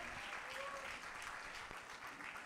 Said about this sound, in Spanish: Un fortísimo aplauso a la 26.